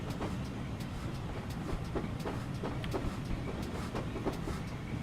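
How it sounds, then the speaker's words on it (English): A steam locomotive in Train Simulator 2017 chuffs in a rapid, even rhythm, with sharp repeated beats over a continuous rumble of rolling wheels and no voices. "You can distinctly hear the change in the chuffing volume as you play with the throttle."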